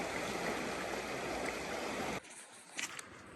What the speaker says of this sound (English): So there's the river rushing by.